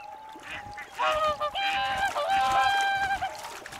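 Swans heading north to breed give a series of honking, trumpet-like calls, several birds overlapping in bursts that grow louder midway, fairly close against faint background noise.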